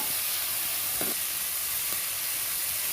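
Tomato and onion sauté in a pan for sambar with a constant hissing sizzle, broken by a couple of soft stirring knocks against the pan.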